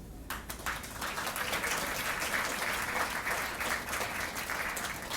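Sustained applause from an audience at an Air Force basic military training graduation ceremony for the 322nd Training Squadron, steady broadband clapping that swells quickly and holds for several seconds in a large outdoor gathering.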